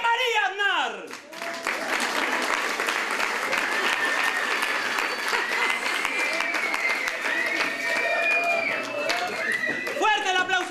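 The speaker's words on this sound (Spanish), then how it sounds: "Señores, un fuerte aplauso para el ganador" Theatre audience applauding the winner at a staged comedy show, a dense sustained wave of clapping that swells and holds for several seconds, with a voice speaking briefly at the start and end.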